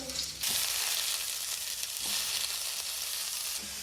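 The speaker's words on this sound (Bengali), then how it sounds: "এই যে ফুলকপিগুলো ভেজে হাঁড়িতেই দিয়ে দেবো" Cauliflower fries in hot oil with a loud, continuous sizzle, broken by a couple of brief scraping stirs; no voices.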